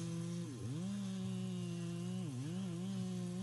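A chainsaw runs steadily while making a flat cut into a tree, its engine droning at high revs and briefly dipping in pitch twice as it bites into the wood.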